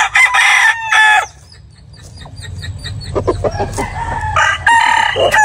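A rooster crows loudly and close, twice in quick succession at the start and again near the end, with clucking and shuffling noises in between.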